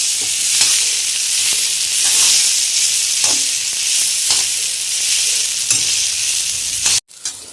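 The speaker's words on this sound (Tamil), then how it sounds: "அதை சேர்த்து ஒரு 3 நிமிஷம் நல்லா கிளறி விட்டுட்டு கேஸ் ஆஃப் பண்ணிடணும்" Boiled banana flower is stirred and fried in a pan for a traditional Tamil dish, giving a steady close sizzle with regular scraping strokes of the spoon, ending abruptly near the close.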